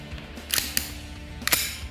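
A KWC PT92 airgun dry-fires on full auto without BBs, giving two quick bursts of sharp mechanical snaps, each burst a few clacks in rapid succession, close and fairly loud.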